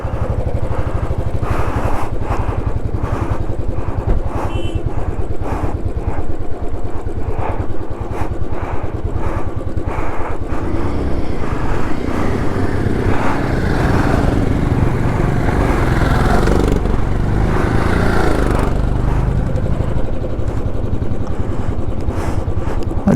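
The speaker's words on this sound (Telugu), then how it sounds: "చూడు ఎదురుకొచ్చే బైకులు ఎంత కష్టపడుతున్నాయో." Royal Enfield Himalayan motorcycles labour uphill on a mountain road on the Spiti circuit near Kunzum La, a loud continuous engine drone that swells and fades as the bikes pass close by.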